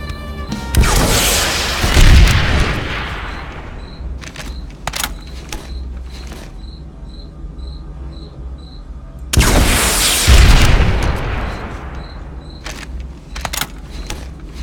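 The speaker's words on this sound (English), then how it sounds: "Switch to your rocket launcher and use it to blow up an enemy vehicle." Two heavy booming blasts from rocket launcher fire in the video game Planetside 2, each a loud broadband burst that rolls off over a few seconds, separated by sharp mechanical clicks and faint game beeps, with no talk.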